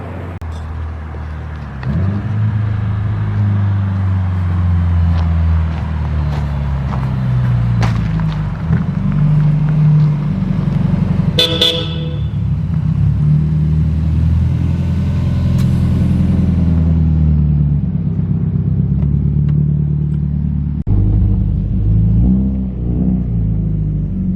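A Subaru STI engine rumbles deeply and steadily from inside the moving car, rising into a brief rev partway through before settling back into a low drone.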